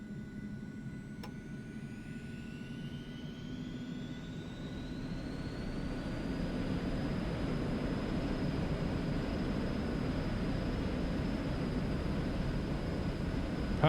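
An Aerobask Eclipse 550NG light jet in a flight simulator spooling up for takeoff, a steady jet engine roar and hiss that rises and climbs in pitch, then holds loud and even.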